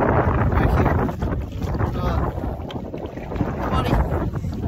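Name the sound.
wind blowing on Lake Erie while kayaking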